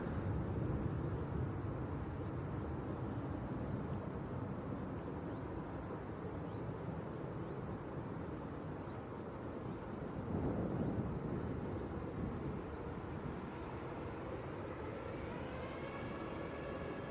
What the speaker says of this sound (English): this is Jet2's A321neo going down to Paphos in Cyprus